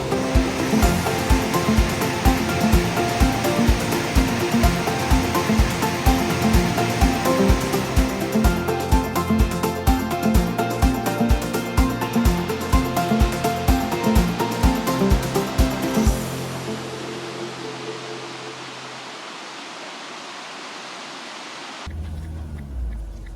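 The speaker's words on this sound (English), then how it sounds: "A telltale sign that you're getting close to the waterfalls, just listen for them." Waterfalls in Michigan's Upper Peninsula heard through autumn woods: a steady, loud broadband rushing roar for about sixteen seconds that then drops to a much fainter, low hush.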